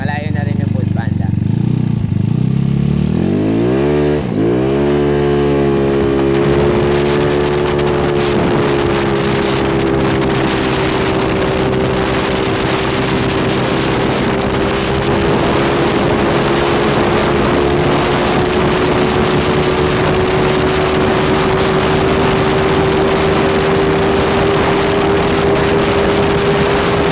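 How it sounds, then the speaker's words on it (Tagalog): A motorcycle with a 196cc square engine (63 bore, 63 stroke) and tuned carb and CVT accelerates hard on a road test, its engine note climbing steadily and holding a loud, close, rising drone under heavy wind rush. "Grabe yung response ng makina,"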